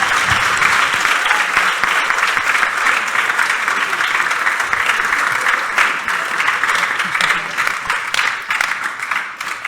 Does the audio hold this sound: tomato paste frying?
no